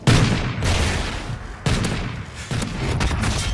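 Gunfire from downloadable-content weapons in a Call of Duty gun game match, sounding as a dense, sustained volley of shots with two sharper bursts partway through, loud and close, with no voices over it.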